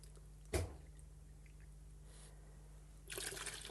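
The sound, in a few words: water being poured in to mix kiln wash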